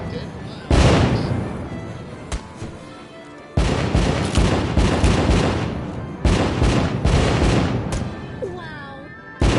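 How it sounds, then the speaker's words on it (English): Fireworks explode in a loud series of booms and crackling bursts, several heavy blasts spaced a few seconds apart with dense popping and sizzling between, close and overwhelming. "I'm so glad we did fireworks."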